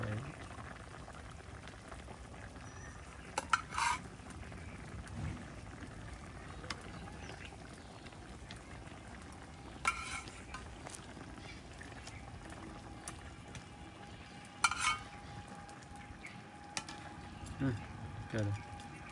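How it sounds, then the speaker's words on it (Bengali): Water at a rolling boil in a cooking pot as tilapia fish is added, a steady bubbling hiss with a few soft clatters and splashes, while a voice talks faintly in the background. "বলকানি আই যাবে, কারণ গরম জল হয়ে গেছে"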